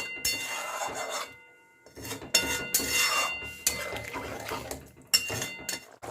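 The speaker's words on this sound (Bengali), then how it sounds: "এবার মধ্যে দিয়ে দিচ্ছি একটু জল ভালো করে একবার মিশিয়ে দেবো" Metal utensil scraping and clinking against a pan while raw papaya and potato curry with added water is stirred, in repeated bursts of scraping with short pauses between.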